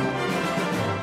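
Full orchestra playing a dense, thick texture of many layered instruments, a loud sustained swell with no break, heard alone without talking.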